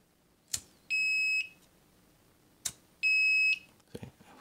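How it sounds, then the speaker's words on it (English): Two rounds of electronic alarm beeping from a fire sensor on an Arduino Mega 2560 environment sensor shield: a sharp click followed by a sustained high-pitched tone, repeated twice, fairly close. "If there is a fire, make a tone, make a beep"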